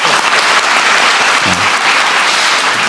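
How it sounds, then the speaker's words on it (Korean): An audience in a town hall meeting hall applauds the Gyeonggi governor, a loud, unbroken roar of clapping from a large crowd that stays dense and even throughout. "우리 경기도지사님도 오셨는데 박수 한번 부탁드립니다."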